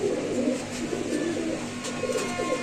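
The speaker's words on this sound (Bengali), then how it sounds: "লফটে একদম কবুতর ভর্তি" Pigeons cooing in a crowded loft, several soft overlapping coos repeating steadily at close range with no talking.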